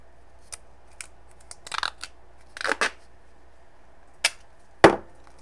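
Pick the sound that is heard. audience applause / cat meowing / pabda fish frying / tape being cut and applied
tape being cut and applied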